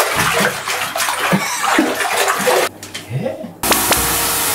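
Water gushes loudly into a bathtub being filled for a bubble bath, a continuous splashing roar with brief shifts in flow and faint voices and movement beneath it.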